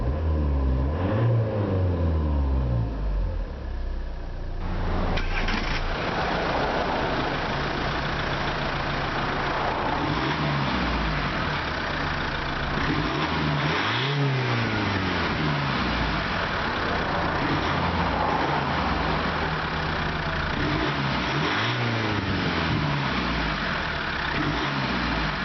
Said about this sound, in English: So let's see how the Zafira sounds. Rest about 3000 RPM.